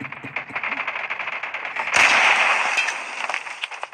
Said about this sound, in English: Did somebody just try to shoot me with a 50 caliber?